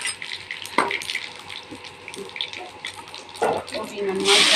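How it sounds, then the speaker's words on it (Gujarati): Cabbage sambharo relish tempered in hot oil over a village stove, a steady sizzling hiss with stirring clatters and a louder burst of frying near the end, while a voice talks faintly in the background. "એને આપણે પહેલાં સંભારો વઘારી નાખી"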